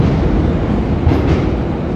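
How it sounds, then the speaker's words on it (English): A train rumbles loudly on the tracks directly overhead, a dense and steady roar close by with no talk. "There's a train right above me, so that's why it's really loud."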